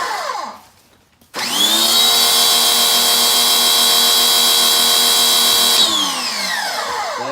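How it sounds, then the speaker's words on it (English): An electric pressure washer under $100 starts up and sprays through its gun with a loud, steady high-pitched motor whine and hiss, holding constant for several seconds before winding down, no talking. "I'm going to show you how it works here, and we'll show you the pressure."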